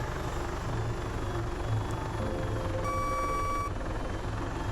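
Helicopter in the video game ARMA 3 flies forward with the collective at about half, giving a steady, loud rotor and engine drone throughout, joined briefly by a high electronic warning tone.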